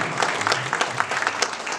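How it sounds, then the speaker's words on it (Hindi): Audience at a Ramayana-based dance drama bursts into loud applause, a brief dense patter of many hands with individual claps popping out rhythmically throughout. "जोरदार तालियां"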